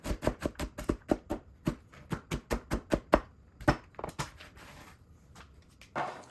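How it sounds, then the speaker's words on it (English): Knife chopping pecan nuts for coconut pecan clusters: a steady run of about two dozen close, crisp knife strikes on a cutting board, evenly paced at first, then looser and more scattered, with no talking. "I'm gonna just give them a light chop."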